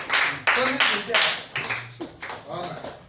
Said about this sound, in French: Acclamez pour l'homme fort